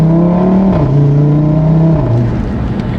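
An Audi RS3 hatchback's engine revs hard under manual gear control, a loud, continuous close drone whose pitch climbs and then drops in steps at two gear changes, with no talking.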